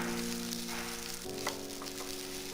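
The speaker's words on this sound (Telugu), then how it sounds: "ఒక 3 నిమిషాల పాటు సిమ్లో పెట్టి అటు ఇటు కలయబెడుతూ బాగా ఫ్రై చేసుకోండి" Capsicum rice being fried and stirred in a pan over low heat, a steady close sizzle with a faint scrape of the spoon partway through and no voices.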